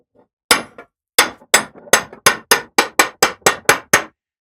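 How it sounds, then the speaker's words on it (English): A Starrett 48-B center punch is struck repeatedly to mark metal, giving about a dozen sharp, loud, close metallic hammer blows in a quickening steady rhythm, with no talking. "The center punch I'm using is a Starrett 48-B. This thing is a beast for making marks in metal."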